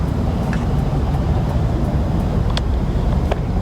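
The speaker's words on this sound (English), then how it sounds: "Look at all that traffic." Busy night-time road traffic in Los Angeles, a steady dense low rumble of passing vehicles with a few brief higher clicks, fairly loud and continuous throughout.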